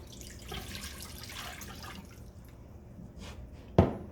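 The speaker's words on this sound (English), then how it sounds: "I don't really know how much water I should add, so I'm just gonna start with like 4 cups" Water runs into a mini keg as banana mead is started, a soft trickle and splash that ends in a couple of sharp drip-like splashes, close by.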